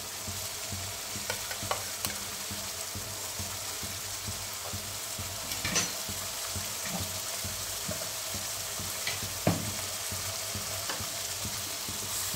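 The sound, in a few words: spices frying with yogurt in a pan, stirred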